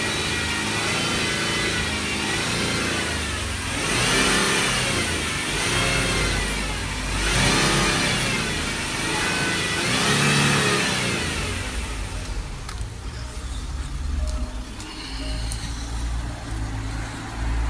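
Range Rover 3.0 diesel engine being revved repeatedly during a smoke test for an intake air leak, rising and falling in several loud surges over a steady running drone before settling back toward idle.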